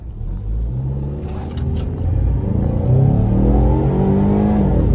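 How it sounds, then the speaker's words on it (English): A Ford Mustang EcoBoost launches hard in track mode with traction control off, its engine note climbing steadily in pitch and volume as it accelerates, heard loud and close from inside the car. "we just do launches to get a general idea of how the power is"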